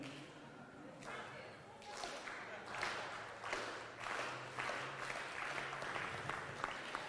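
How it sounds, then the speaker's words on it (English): Audience at an early-morning startup week event joining a slow clap, scattered claps building into steady applause that fills the room, with murmuring under it. "Kiana in the back is going to start a slow clap"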